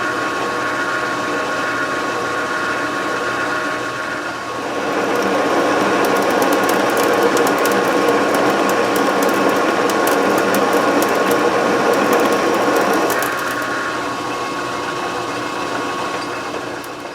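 A homemade wood lathe built like a metal lathe with a pattern tracer cuts a thread using a slightly dull threading tool, a loud steady motor hum joined by a rougher cutting roar with rapid ticking for several seconds before easing back.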